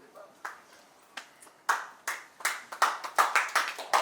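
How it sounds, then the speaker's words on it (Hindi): Hands clap at a college commerce batch reunion: scattered claps build into an uneven run of sharp slaps from a few nearby people, growing livelier toward the end, with voices heard faintly. "तालियां। ताली नहीं रुकनी चाहिए।"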